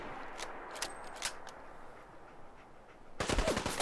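Gunfire in the Fallout 4 game, fairly faint and distant: scattered sharp cracks over a low background hum, ending in a denser, louder burst of shots.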